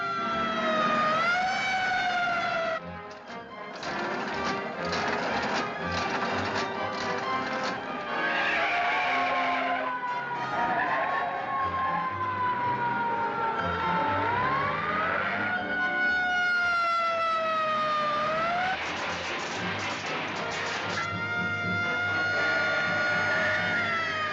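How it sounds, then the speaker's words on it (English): Police car siren in a 1949 film serial, wailing continuously with long rising and falling sweeps over a loud engine and tire noise, close and dominant throughout. "there's a police car trailing us"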